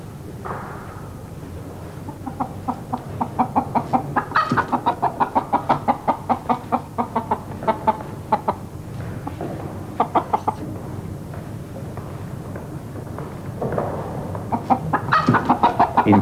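Chickens cluck in a farmyard: a run of quick, rhythmic, mid-loud clucks and short cackling calls repeats for several seconds, pauses, then picks up again, heard alone without talk.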